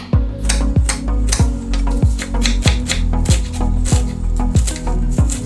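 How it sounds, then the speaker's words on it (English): A knife dices onions on a cutting board in a fast, even rhythm of about a dozen sharp, close thuds. Each chop lands roughly every half second, loud and clear, with no voices. "Now back to the onions. Just gonna continue dicing."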